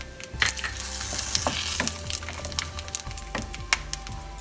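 Whole spices sizzle in hot oil in a pan: garam masala, bay leaves, dry red chili, cumin seeds, cinnamon stick, green cardamom and cloves, a steady close crackle with sharp pops and stirring clicks.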